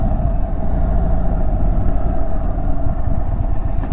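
Indian motorcycle from the 2023 lineup ridden in tour mode, its engine a loud, steady low rumble with heavy wind roar, close and continuous, no talk.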